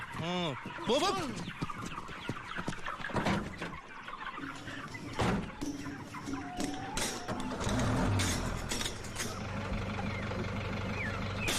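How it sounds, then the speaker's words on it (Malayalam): Chickens cluck and squawk in bursts among clattering noises and engine-like rumble in a Malayalam comedy film scene, with people talking over them. "ഇതിൽ കോഴി അല്ലാതെ വേറെ ഒന്നുമില്ല സാർ"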